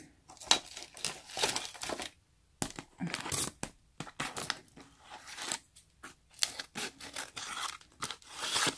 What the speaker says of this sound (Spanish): Tijeras, tijeras.